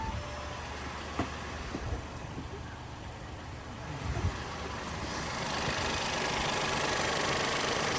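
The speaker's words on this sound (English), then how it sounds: "So engine's running smooth," An Audi petrol automatic's engine idles steadily nearby after an oil change, a low continuous rumble that grows slightly louder and fuller toward the end.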